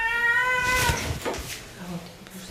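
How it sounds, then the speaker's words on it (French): A three-year-old cat unable to urinate lets out a long, clear, close meow at a veterinary emergency clinic, followed by softer vocal sounds, with people talking nearby. "Le premier patient d'Hélène est un chat de 3 ans, Cachou."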